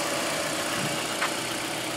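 A 2005 Nissan Altima 2.5S with a 2.5-liter four-cylinder engine idles steadily, a constant close hum with no change in pace.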